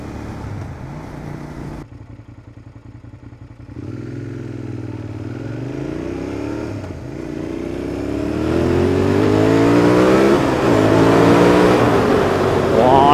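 A Suzuki SV 650 motorcycle fitted with a Mivv Oval exhaust revs repeatedly, loud and close, its engine note rising and falling in several throttle blips before climbing into a sustained high rev.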